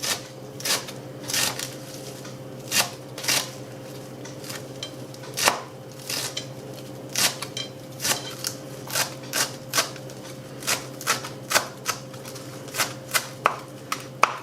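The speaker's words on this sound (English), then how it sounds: "we're going to finely chop this. We'll fast through this bit because I'm sure you know how to chop parsley" Sharp, rapid knife chops on a cutting board as parsley is finely chopped for a British kedgeree, a steady run of close, crisp taps over a faint constant hum, with no talking.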